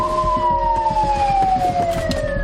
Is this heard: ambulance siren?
yes